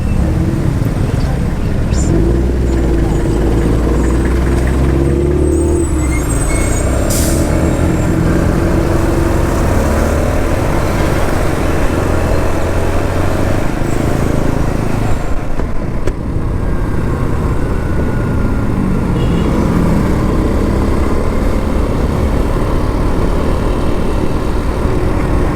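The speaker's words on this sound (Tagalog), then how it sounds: "Passenger jeepneys." Passenger jeepneys and other traffic rumble past near a bridge in Calumpit, a steady loud roar of engines and tires with a horn-like tone early on, while a person talks over it.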